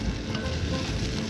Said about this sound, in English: Don't you love the smell of carrot, onion and celery when it's frying?